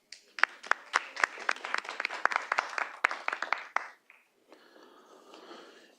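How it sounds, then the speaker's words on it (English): Audience applause at a city board of directors meeting in Little Rock, a burst of dense hand clapping lasting about four seconds that stops abruptly, followed by quiet room murmur. "Let's give her a round of applause."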